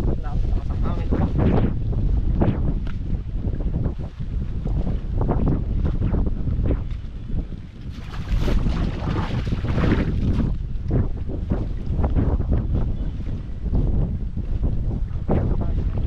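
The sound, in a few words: wind blowing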